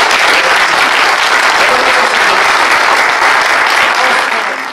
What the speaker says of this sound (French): Je vous demande d'applaudir notre ambassadeur